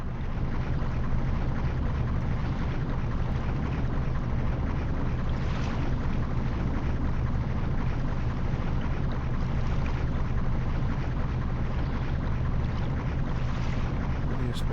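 Boat thrusters and engine throttle in the NauticXP boating game, a continuous broadband rumble and wash of water and wind noise, steady and loud with no pauses.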